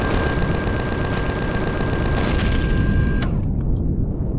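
Rapid automatic fire from mini gun turrets at a stealth outpost in the space survival game Empyrion, a dense, continuous barrage of shots with booming impacts that cuts off abruptly near the end.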